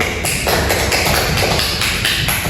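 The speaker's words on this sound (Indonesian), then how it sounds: "Sekarang kita beri aplaus dulu ya sama temannya yang sudah maju." A classroom of students applauds a classmate, producing a dense, continuous patter of close hand claps that stays steady and loud throughout without any talking.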